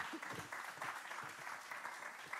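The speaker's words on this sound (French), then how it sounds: "Une main d'applaudissement" Audience applause for a speaker invited on stage at a technology innovation event, an even, continuous patter of many hands clapping, quiet and somewhat distant, with no talking heard.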